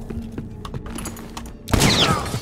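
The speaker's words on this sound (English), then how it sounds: "That was a gunshot!" Gunfire in the video game Dishonored 2: a run of sharp, scattered shots and impacts over a busy game soundscape, ending in a sudden loud, sustained burst of firing close by.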